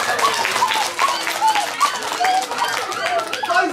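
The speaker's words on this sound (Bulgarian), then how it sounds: "А заедно с Ян върват и аплодисментите!" Applause from an audience at a Christmas party comedy magic show, dense broadband clapping that runs steadily throughout, with children's voices and chatter mixed in.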